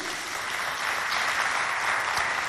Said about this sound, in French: Vous applaudissez. Applaudissez bien fort pour vous.